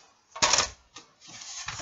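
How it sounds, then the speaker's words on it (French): A paper guillotine cutter slices through paper with a sharp crunching chop and a fainter follow-up scrape, close by, with no voices. "On va reprendre notre massicot."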